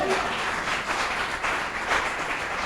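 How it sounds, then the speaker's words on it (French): Steady applause from a church congregation during a sermon, continuous clapping filling the space without pause, fairly loud and close. "Applaudissez pour Jésus."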